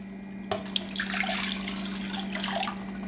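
Warm water poured into a container in a home kitchen while making a plain white loaf, a steady splashing stream starting abruptly and continuing close by over a constant low hum.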